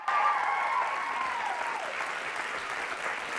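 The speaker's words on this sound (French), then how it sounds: "Applaudissez le frère de Richard" A studio audience on a TV dating show applauds a contestant's brother: broad, even clapping at moderate loudness, with a faint sustained tone drifting underneath.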